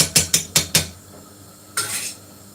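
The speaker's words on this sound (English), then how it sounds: "We're going to keep that off the heat to stir it in." A metal spoon raps quickly against a pot four times, then after a pause gives a brief scraping stir, as double cream is worked into meat and potato curry off the heat. Close and clear, no talking.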